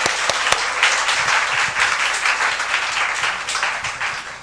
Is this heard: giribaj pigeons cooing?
no